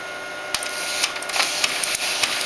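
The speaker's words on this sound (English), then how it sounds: "the printer is processing the job" HP printer feeding paper sheets through its separation pad, with a steady whirring mechanical hum punctuated by several sharp clicks and clacks at irregular intervals as the sheets are drawn in.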